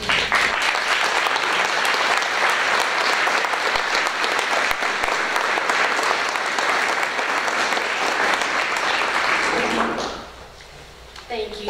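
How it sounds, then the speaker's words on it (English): Sustained, loud applause from an audience at a school district breakfast honoring the school board members, a thick continuous roar of clapping lasting about ten seconds before it drops off abruptly and a voice begins speaking. "let us give you a well-deserved round of applause"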